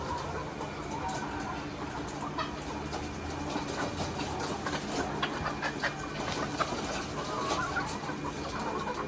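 Dense, continuous clucking from a large flock of Lohmann laying hens in a layer building, busy and close, with scattered sharper calls over a steady background hum.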